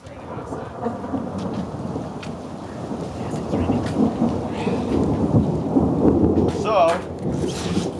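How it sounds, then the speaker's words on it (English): Steady rain falls outside while low thunder rumbles continuously beneath it, with a brief sharp clatter near the end. "Yeah, I think it's raining outside."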